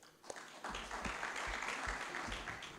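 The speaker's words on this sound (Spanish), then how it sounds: "Lo recibimos con un fuerte aplauso." An audience at an anniversary ceremony of a medical association claps to welcome a speaker, the applause rising after a brief pause into a steady, moderately distant patter with a few low thumps.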